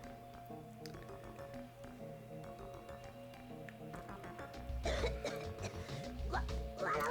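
A character coughing during a cutscene in the video game Klonoa 2: Lunatea's Veil, a few short muffled coughs near the end over soft game music.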